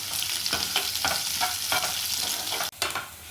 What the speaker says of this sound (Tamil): வெங்காயம் நல்லா வதங்கிடுச்சுன்னா இனி நம்ம குழம்புல போட்டுடலாம்.